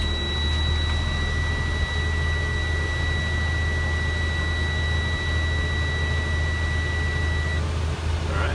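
A steady electronic warning buzzer on a bus, sounding as a pair of continuous high tones for about seven seconds over a low idling engine rumble, close by and loud, then cutting off.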